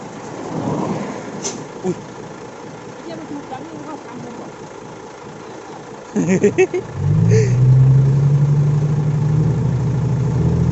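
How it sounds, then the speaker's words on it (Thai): Talk comes first, then a heavy truck with a flat front tire roars up loudly and holds a strong, sustained engine note to the end. "ไปเร่งเครื่องขนาดนั้น"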